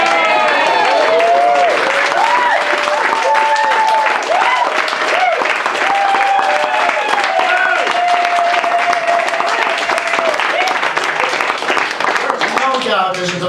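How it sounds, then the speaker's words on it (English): A lively noon crowd at a reunion weekend gathering claps and cheers loudly and continuously, dense applause with whoops, while a voice rings out over it and a sustained musical tone sits beneath. "No doubt this is the most enthusiastic noon crowd I have ever had."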